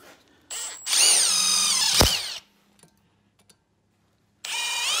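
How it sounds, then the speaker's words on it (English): Power drill with an eighth-inch bit boring a rivet hole into a car fender bracket: a short motor whine, a sustained loud drilling burst with rising pitch, then quiet before the drill spins up again. "Most certainly my most used drill bit is the eighth inch."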